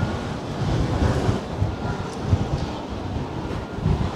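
Strong wind blowing on the Blackpool seafront early in the morning, a constant loud rumbling roar that buffets the microphone, with a hint of surf underneath and no talk.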